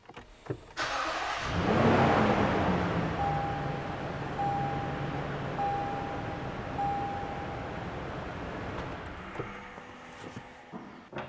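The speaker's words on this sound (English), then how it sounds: "Let's start the engine, cycle the oil" A Lexus engine cranks and starts after an oil change, then runs steadily with a loud broadband roar and a repeating beeping chime before cutting off near the end.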